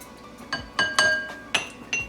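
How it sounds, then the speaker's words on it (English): A spoon stirring a sugar and yeast mixture in a glass, giving five bright, ringing clinks against the glass at irregular intervals, close and clear with no voices. "Sugar activates this yeast. Give it a good stir."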